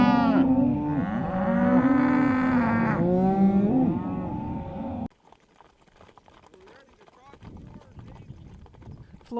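Cattle moo loudly and repeatedly up close for several seconds, then things drop to quieter rustling and faint sounds.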